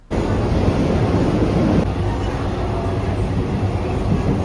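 Ride aboard a Milan metro train, a loud, steady rumble of the moving carriage with continuous low roar and rattling, close and unbroken throughout, with no voices.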